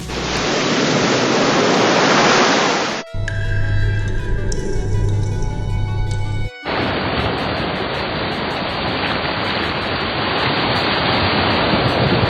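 Rain pours down in a cartoon story as a loud, steady hiss that fills the opening seconds. A tonal musical passage then takes over before the heavy downpour returns and continues to the end.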